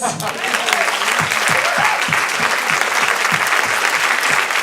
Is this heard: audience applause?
yes